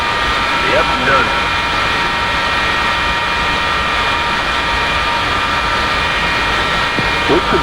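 An F-4E jet engine in the DCS flight simulator spools up, producing a loud, steady whine and roar that holds evenly throughout with layered tonal hum and no pauses.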